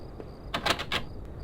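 Door in the horror video game Home, a short burst of three or four rapid metallic clacks like a locking mechanism engaging, close and fairly loud against quiet ambience.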